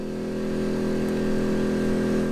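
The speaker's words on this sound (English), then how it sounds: "So it's a pretty quiet generator" CAT INV2000 inverter generator at full throttle near an RV rig, a steady droning engine hum held evenly throughout, close and fairly loud, with no speech over it.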